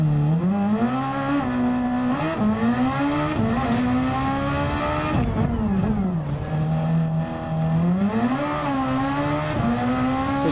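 A Super Formula race car in Gran Turismo 7 revs hard on the Tokyo Expressway, its loud engine note climbing and dropping repeatedly through gear changes, steady and close throughout.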